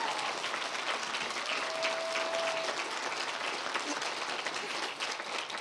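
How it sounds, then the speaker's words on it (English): A commencement ceremony audience applauds at a school of gerontology graduation, a steady, even roar of many hands clapping at a moderate distance. "You deserve a round of applause for that."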